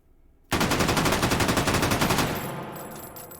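FAL battle rifle fitted with a muzzle brake firing in the VR shooter game H3VR: a rapid full-auto burst of loud, evenly spaced shots for about two seconds, then a fading ringing tail.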